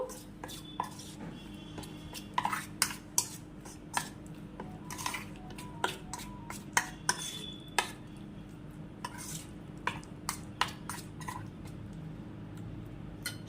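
Meat being mixed by hand with onion, ginger and garlic spice paste for a marinade: wet squelching stirs and light clinks against a bowl, close and fairly quiet, with a faint steady hum behind.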